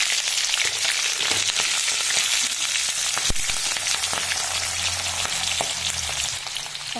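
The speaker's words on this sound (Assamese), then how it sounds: "তাত অকণমান সময় মই ফ্ৰাই কৰিম, যাতে যেন বস্তুখিনি অকণমান ভালকৈ কোমল হৈ যায়" Spices fry in hot oil for a mutton pickle, giving a loud, steady, close-up sizzle with a brief sharp clink partway through.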